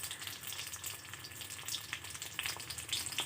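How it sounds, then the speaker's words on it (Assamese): Pieces of fish fry in hot oil in a wok, giving a steady, close sizzle with scattered bright crackles and spits throughout, no voices. "ইফালে মাছখিনি কেৰাহীত ফ্ৰাই কৰিছোঁ"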